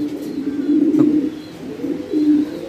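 Pet pigeons coo in clear, close, repeated low throbbing calls, each a few seconds apart, with no talking over them.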